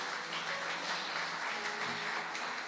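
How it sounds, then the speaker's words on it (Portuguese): Church congregation applauding during a sermon, a steady dense wash of clapping held at even loudness throughout, with no voices standing out. "Você pode aplaudir a Jesus,"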